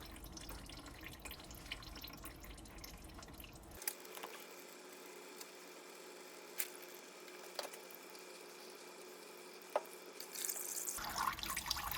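Transmission fluid from a 2011 petrol Volvo XC60 automatic drains into an oil pan, a steady close trickle and splatter that runs for the whole stretch, with a few sharper drips and small taps over it.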